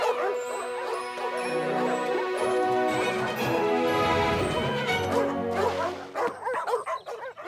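A dog barks and whimpers in high yips and whines over bright orchestral music in a Disney AMIGO: To the Rescue cartoon, with the cries growing clearer and louder toward the end.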